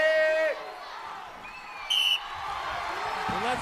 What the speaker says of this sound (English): Wait for my whistle now.